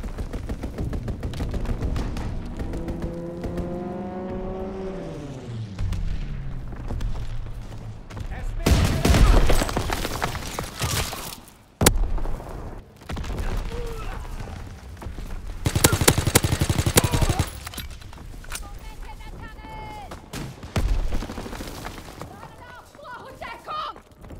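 Gunfire in Call of Duty: WWII multiplayer, bursts of rifle and machine-gun fire and explosions mixed with game sounds, loud in stretches, with voices heard at points.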